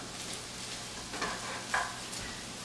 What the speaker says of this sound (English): Keep stirring it around because you want it to coat all of the cabbage so that it doesn't stick and burn